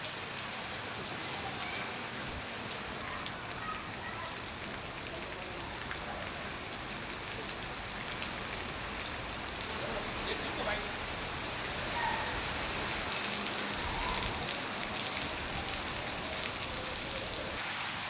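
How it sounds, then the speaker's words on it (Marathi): Heavy monsoon rain pours steadily in Igatpuri, a dense, constant hiss of drops on surfaces that holds evenly throughout with no other sounds rising above it. "संध्याकाळपासून मुसळधार पावसाने हजेरी लावली असून वातावरणात गारवा निर्माण झाला आहे"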